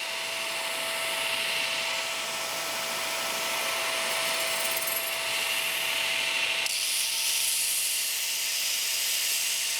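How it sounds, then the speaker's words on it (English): A knife blade is sanded and polished with a finer grit, likely on a belt machine, giving a steady, continuous abrasive rubbing hiss with a constant tonal whine that shifts slightly partway through. "polishing it by removing the scratches from the previous grit"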